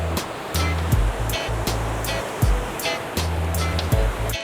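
Water rushing through a storm drainage channel in Asaba, Delta State, after rain, a loud, continuous roar with surging, turbulent swells, broken by intermittent low rumbles and knocks.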